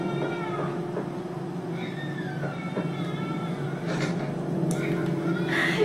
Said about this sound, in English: Do you hear the baby cry?